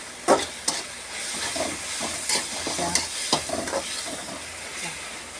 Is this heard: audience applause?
no